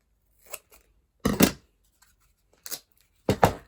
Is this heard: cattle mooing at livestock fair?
no